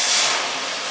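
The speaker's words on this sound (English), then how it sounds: "Yes. We want that sizzle." Broth poured into a hot pan while cooking turkey meatballs with sauteed okra and sweet potatoes, giving a loud, bright steamy hiss that sizzles strongly at first and eases slightly over under a second, with no talk.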